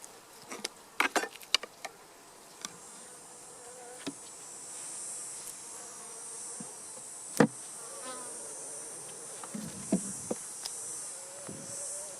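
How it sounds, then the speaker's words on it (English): Honey bees hum steadily around an open beehive during a honey harvest outdoors, a continuous close drone broken by scattered clicks and knocks of hive handling, with no voices. "outside of that one bee that got on my finger, the hive in general is being very calm"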